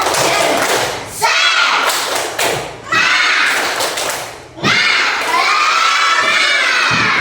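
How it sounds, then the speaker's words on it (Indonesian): Schoolchildren in a classroom shout a 'tepuk semangat' chant in loud bursts, with claps and thumps on desks between their voices; three energetic rounds separated by short pauses. "ayo tepuk semangat dulu"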